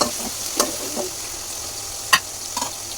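Chicken fry stirred and mixed in a pan over a steady oily sizzle, with a few sharp spoon scrapes and clinks against the metal close by; no one speaks.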